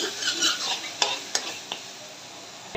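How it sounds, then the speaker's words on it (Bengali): Onion and garlic fry in hot mustard oil in a pan, giving a steady close sizzle with a few sharp clinks and scrapes of a stirring utensil against the pan. "এর সাথে সামান্য একটু রসুন দিয়ে পেঁয়াজটা ভালো করে ভেজে দিব।"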